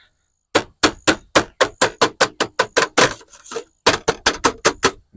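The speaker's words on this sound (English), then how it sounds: "Take your hammer and kind of bang it down" A hammer bangs down aluminum fascia on a gable roof: about seventeen sharp, ringing metallic strikes in a quick, steady rhythm with one brief pause, loud and close.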